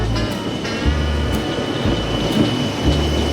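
Train rolling on rails, a loud continuous rumble with a deep low drone and rhythmic thumps of wheels over joints, heard up close with no talk.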